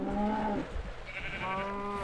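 Sheep bleat in the video game Minecraft at night, two wavering bleats separated by a short pause, close and clear with no talk over them.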